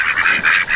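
Geese or ducks honk at feeding time in a brief burst of two or three close, loud nasal calls.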